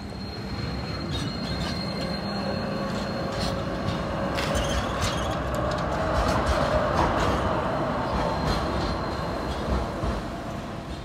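A Turkish-built Bozankaya tram rolls along rails in Timișoara, wheels squealing and clacking over track joints, a steady rumble swelling as it passes nearby.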